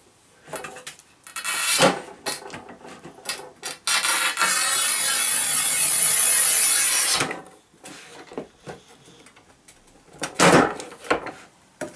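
A Topvei V-2012 manual tile cutter for tiles up to 1200 mm scores a tile, giving a loud, steady three-second scraping rasp. Brief knocks and handling clatter from the tool come before and after it.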